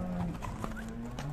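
A horse for sale at the Sokuluk horse market near Bishkek is walked on asphalt, its hooves clip-clopping in an uneven close rhythm against steady background noise.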